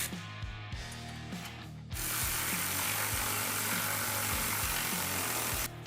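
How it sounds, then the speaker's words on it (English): A ratchet tightens bolts and nuts on a SuperATV 6-inch lift kit for a Honda Pioneer, giving rapid, close mechanical clicking in short bursts, then one long steady run of loud clicks with no voices. "We'll go ahead and fully tighten the hardware."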